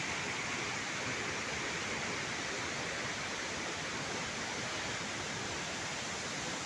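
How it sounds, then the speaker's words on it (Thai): Vachirathan waterfall at Doi Inthanon in Chiang Mai, running at peak flow, gives a steady, dense roar of falling water that stays constant and close throughout, with no voices. "นี่ก็บรรยากาศ ที่น้ำตกวชิรทานนะครับ"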